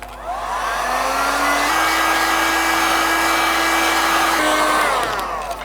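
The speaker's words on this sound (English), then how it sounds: "or you can use your heat gun." A heat gun blows steadily for about five seconds, drying glue on a shoe sole during platform shoemaking; a loud, even rushing hum with a constant whine that shifts pitch slightly partway through, then fades out as it switches off.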